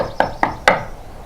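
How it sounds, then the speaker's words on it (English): Knocking on a wooden cottage door as an audiobook sound effect: three sharp, evenly spaced raps close by, each ringing briefly before quiet returns. "knocking on the door."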